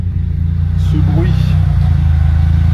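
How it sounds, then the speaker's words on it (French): A faint whine from an idler pulley rides over the steady, loud hum of a running car engine, a thin tone sitting above the deep drone, with a voice speaking briefly. "Il y a un galet qui chante un peu là."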